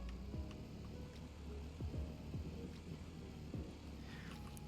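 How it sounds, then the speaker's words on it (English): A vehicle engine in the Scrap Mechanic video game hums steadily under a low rumble, with several short tonal sweeps as it revs and shifts up through the gears. "You can hear it revving up and just like kicking into a higher gear almost."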